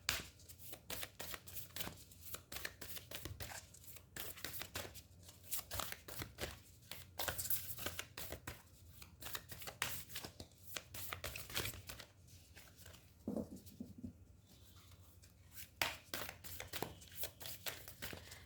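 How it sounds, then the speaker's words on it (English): Moonology oracle cards are pulled out and shuffled continuously, a steady close flutter of riffling and rustling card stock with soft crinkles throughout. "Let me pull out some more cards for you from the Moonology Oracle"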